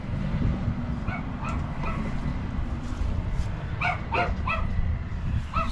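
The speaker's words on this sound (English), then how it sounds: "a little doggy inside" A small dog yaps in short, high bursts somewhere indoors and at a distance, faint over a steady low rumble of outdoor noise at a house in Florida.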